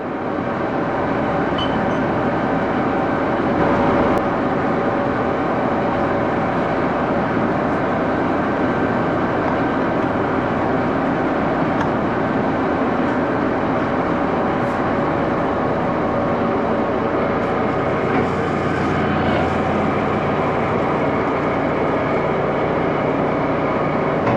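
Axelson lathe turning a cast iron part at slowed speed, about 171 RPM, a dense continuous mechanical drone and grinding rumble that holds steady and loud throughout, with no talk.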